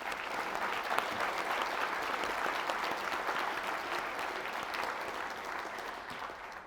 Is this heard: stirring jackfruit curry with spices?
no